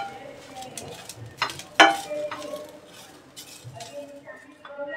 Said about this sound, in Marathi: आणि हे सुक्कं खोबरं पण टाकूया। आणि लालसर भाजून घेऊया।